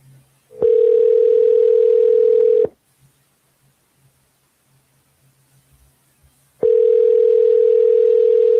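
Telephone ringback tone during an outgoing call: two long steady tonal bursts, about two seconds each, separated by a four-second gap of near silence, loud and clear with no talking.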